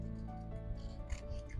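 Scissors snipping through a paper sewing pattern to remove the back neck section, quiet close crisp cuts and rubbing over a low background hum.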